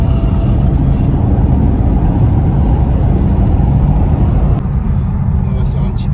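A BMW four-wheel-drive car takes bends at speed, its engine giving a loud, steady low rumble and road roar throughout that eases slightly near the end.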